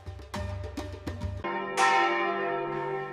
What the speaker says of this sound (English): The church bell is one of the most iconic sounds of alpine life